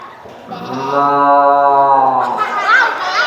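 A person imitates a cow, drawing out one long, steady moo that lasts a couple of seconds before a brief bit of speech follows.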